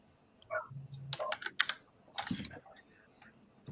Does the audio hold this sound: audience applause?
no